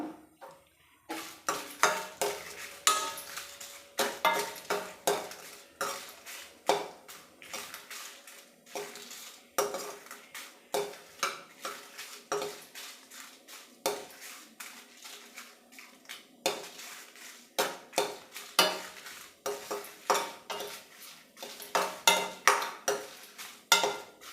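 Green chili roasting in a pan while a metal spoon stirs it, producing a long run of rhythmic clanks and scrapes against the pan, close and fairly loud, with faint frying underneath.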